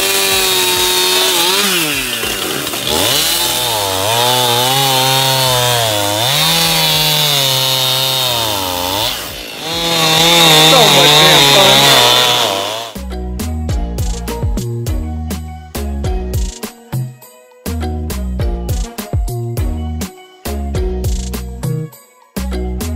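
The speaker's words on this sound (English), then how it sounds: "the steel chainsaw though, you can cut through anything with it and it'll last long." A steel chainsaw cuts through a junked sailboat hull, its loud engine whining and bogging as it bites into the material, followed by banging and scraping as a roughly 400 to 500 pound piece is handled.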